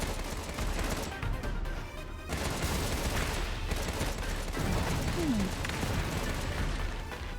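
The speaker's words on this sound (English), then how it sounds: "it looked like I was using the spread gun" Spread gun firing in the video game Contra Rogue Corps, a dense, continuous barrage of overlapping shots and blasts, loud and sustained throughout with brief dips, no talking.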